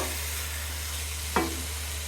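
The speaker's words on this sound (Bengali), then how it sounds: "এখন এটার মধ্যে আমি ভালো করে নেড়ে ফেলে কড়াইটা শুকিয়ে দিচ্ছি" Carrot halwa is stirred in a wok as it dries, a faint low sizzle under a steady hum with one brief scraping stroke midway.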